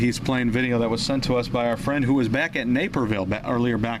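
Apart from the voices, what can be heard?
None of the usual background noises is heard.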